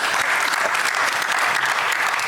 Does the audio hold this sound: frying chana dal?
no